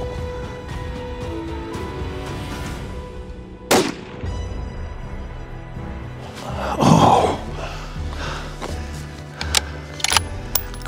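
A single loud hunting-rifle shot is fired at a bighorn sheep about 363 yards away. It cracks sharply once over steady outdoor background noise, followed by some rustling and handling sounds.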